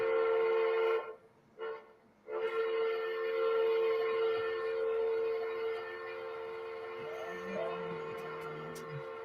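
A sustained electronic horn-like tone from a model railway crossing sounds continuously, briefly interrupted early on, with faint clicks and handling noises underneath.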